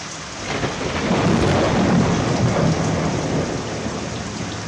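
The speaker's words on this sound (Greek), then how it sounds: "Βρέχει, αστράφτη που μπουρίζει." A thunderstorm sound effect from a Cypriot comedy sketch: loud, steady rain hisses throughout while a low rumble of thunder swells and fades, with no voices.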